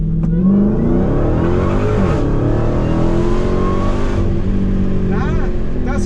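A Dodge Challenger Hellcat Redeye Super Stock in track mode pulls from a 20 mph roll in second gear, its engine roaring loud and close, the pitch climbing steadily throughout.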